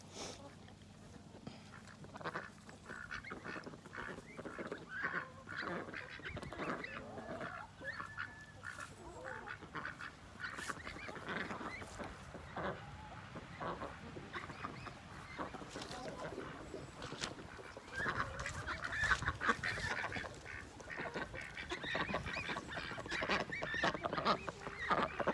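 A flock of ducks and geese foraging outdoors, honking and quacking continuously at close to moderate distance, with occasional voices in the background.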